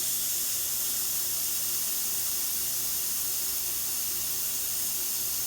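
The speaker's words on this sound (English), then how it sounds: "Nice strong steam." Steam wand on a Pasquini Livietta espresso machine hisses in one continuous, loud, unbroken rush from start to finish, with no voices.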